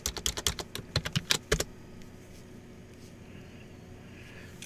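A burst of quick keyboard typing on a computer, about a dozen sharp close keystrokes in the first second and a half, then quiet room tone.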